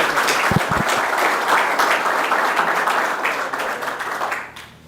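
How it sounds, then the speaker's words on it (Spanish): Steady, dense applause from a conference audience welcoming a speaker at a Catholic public-life congress, loud and continuous for several seconds before fading out at the end. "Con un caluroso aplauso recibimos al doctor Alfredo gentilmente."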